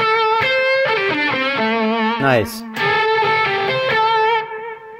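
An electric guitar plays sustained, heavily distorted notes and bends through a DAMN10 distortion pedal, loud and up close, with a brief spoken comment partway through.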